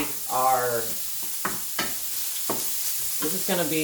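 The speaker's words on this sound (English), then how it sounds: "I'm just rendering down the fat in this bacon" Bacon fat renders and sizzles in a pan, a steady frying hiss with crackles and pops, close by and fairly loud, with brief stirring scrapes and a short voice at the start.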